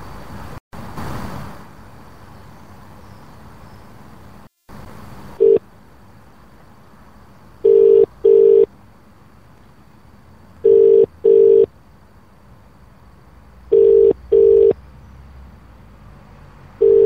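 Telephone call tones on a handset: repeated paired ringback bursts, spaced evenly after an initial dialing stretch, fairly loud and clear, with no talking over them.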